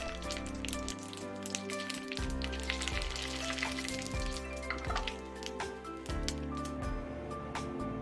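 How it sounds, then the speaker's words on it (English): Bean curd sheets fry in hot oil with a steady crackling sizzle and scattered pops, while a low rhythmic hum runs underneath throughout. "Fry bean curd sheets one sheet at a time until they blister and turn golden brown"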